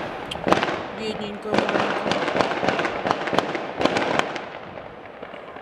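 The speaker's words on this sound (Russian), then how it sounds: "Салют." Repeated sharp festive fireworks bangs and crackles in Spain burst at irregular intervals, fairly loud, while someone speaks softly in between.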